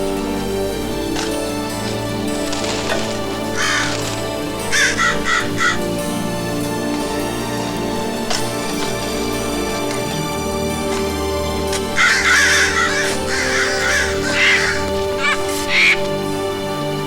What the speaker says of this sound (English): There's birds out there. Big ones.